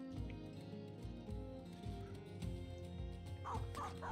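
A dog barks and yips in the video game Battle Brothers, several short barks and whimpers over game sound, moderately loud.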